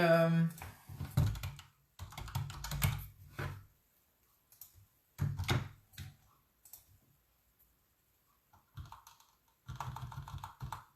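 Typing a message on a computer keyboard, bursts of soft key clicks separated by quiet gaps, with a voice heard at the start.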